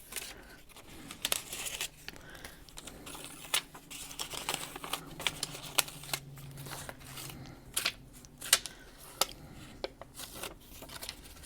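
Stickers being peeled off a sheet by hand during an art session with inks, giving soft crinkles and short tearing rips, quiet and close, with no talking.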